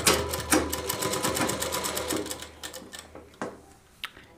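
An electric sewing machine runs top stitching along a Rajputi suit kurti seam, a fast, even rhythmic chatter that slows and stops, followed by a few sharp mechanical clicks.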